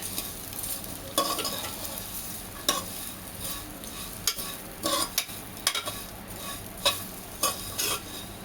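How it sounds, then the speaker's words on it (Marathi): Vermicelli roasting in ghee over a low flame for sheer khurma gives a soft continuous sizzle with repeated spoon scrapes and taps against the pan, close and fairly quiet, with no talking. "तुपामध्ये भाजणार आहोत. बारीक गॅस करूनच भाजायचा आहे."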